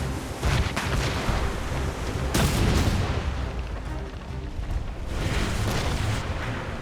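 Heavy ship cannon fire booms out in the naval battle of Assassin's Creed Rogue, several loud broadside blasts rolling one after another with long rumbling tails and no break between them.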